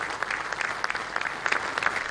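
Dignitaries at a Gabon–Morocco agreement signing applaud, a brief dense burst of many hands clapping, with sharp distinct claps standing out, steady and alone.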